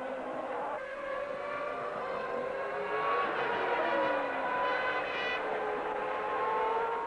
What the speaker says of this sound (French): La Jordan Peugeot part en tête à queue.